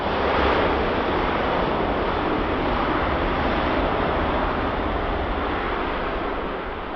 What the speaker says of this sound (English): A nice early touchdown there. Get the reversers on.